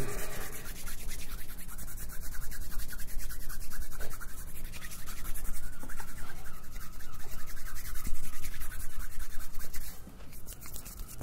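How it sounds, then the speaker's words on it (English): Hands rub steadily around the listener's head during an ASMR reiki throat chakra session, a close, continuous brushing and scratching texture that swells and fades, with no talking. "I'm just going to rub around your head a bit"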